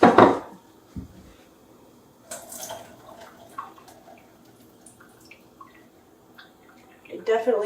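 Potted houseplants are watered at a sink: short bursts of splashing and dripping with a few clunks, separated by long quiet gaps, and a louder burst of activity at the end.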